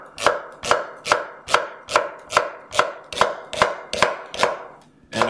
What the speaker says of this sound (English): just give it a nice chop